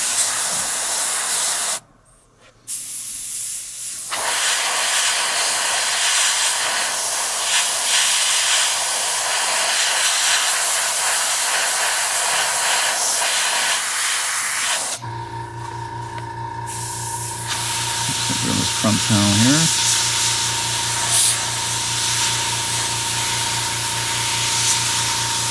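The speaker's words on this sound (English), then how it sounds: "You can see when I spray" An airbrush sprays paint onto a Sturmgeschütz III Ausf B scale model in long, steady bursts of close, loud hiss, briefly cutting out near the start, then continuing with a lower mechanical hum behind it.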